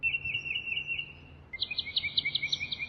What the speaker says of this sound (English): If you want to hear like birds chirping,